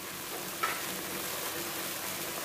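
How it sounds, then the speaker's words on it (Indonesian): Largehead hairtail fish pieces drop into a pan of boiling spicy chili sauce, giving a brief splash as they go in, followed by steady bubbling and sizzling that carries on quietly and evenly. "setelah terlihat mendidih begini ya teman-teman semua, kita masukkan layurnya"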